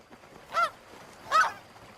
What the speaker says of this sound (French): une famille d'oies des neiges se met en route